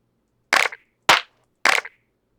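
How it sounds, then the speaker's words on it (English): A clap drum sample played from the Reason NNXT sampler: three sharp, identical claps spaced evenly about half a second apart, each dry and close with a short tail, surrounded by silence. "Pick a clap."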